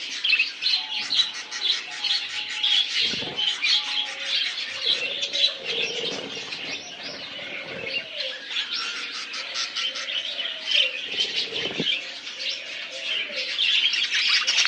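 A dense chorus of budgerigars at a bird farm chirps and chatters continuously, many birds overlapping at close range, with occasional soft wing flutters.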